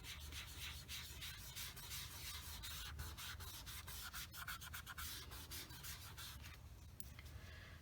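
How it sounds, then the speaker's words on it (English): A finger rubs oil pastel across paper, giving a steady, close dry scrubbing with quick repeated strokes running almost without pause. "what I do is I rub my finger over it"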